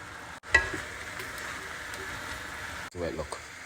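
Food frying in a pan seasoned with salt and black pepper, a soft, steady sizzle running under the whole stretch, with a brief clatter at the start and a voice speaking near the end.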